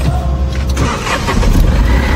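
A car engine starts up and runs loud and close, a rough mechanical turnover settling into a steady rumble for a couple of seconds.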